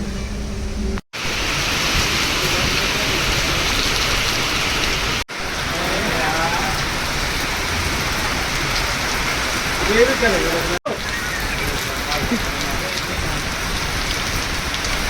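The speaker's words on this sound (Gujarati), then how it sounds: "હમણાં બી પાછું પડવાનું ચાલુ થઈ ગયું ઝાપટું" A rain shower drums steadily on surfaces outdoors, a dense, even hiss that holds throughout with only brief dropouts, beside a Tata truck.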